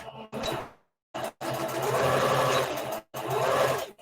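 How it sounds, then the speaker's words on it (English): A sewing machine stitches a straight reinforcing line back and forth on a small Easter bunny treat bag, sounding as several close, steady whirring runs separated by short silent pauses. "I'm just going to sew straight line back and forth"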